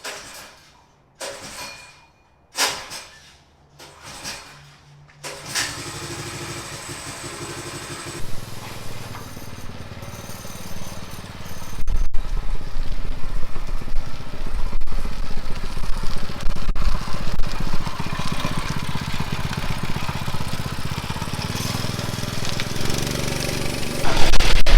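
A drift trike's small engine is cranked a few times in short sputtering bursts before catching and then running at a steady rough idle, followed by louder revving.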